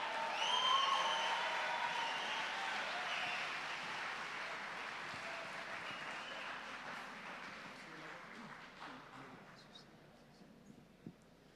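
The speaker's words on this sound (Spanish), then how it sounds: "Un fuerte aplauso" An audience at a lecture applauds for a priest taking the stage, a moderate wave of clapping that swells early and gradually fades out over several seconds.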